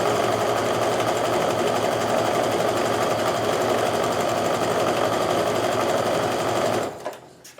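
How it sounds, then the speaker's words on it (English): A sewing machine stitching a quarter-inch quilt seam, running at a steady, loud, close rapid whir for about seven seconds before stopping abruptly. "Alright, we're just sewing another 1/4" seam."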